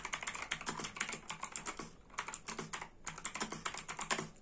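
Rapid typing on a Quantum mechanical keyboard, with dense clusters of crisp key clicks and clacks in quick bursts, a short pause, then more steady typing, heard close and alone.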